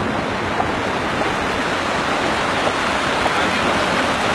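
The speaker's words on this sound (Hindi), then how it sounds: "ये नहर बह रही है यहाँ से" A canal of snowmelt water rushes through a mountain valley in Naran Kaghan, a dense, continuous, close roar without pauses.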